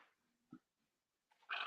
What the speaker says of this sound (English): I'm hearing noises and there's no one home. I think it's my dog.